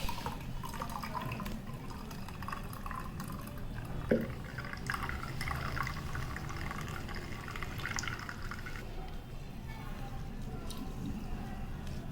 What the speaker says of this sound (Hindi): इसमें डाल रही हूँ मैं 1 गिलास पानी।